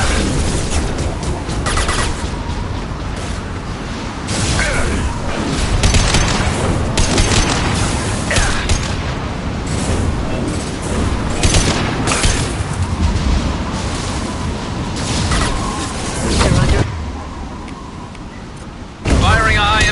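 Concussive shot gunfire in the video game Mass Effect: a dense run of heavy booms and blasts layered over constant combat noise, loud and close, with game voices mixed in.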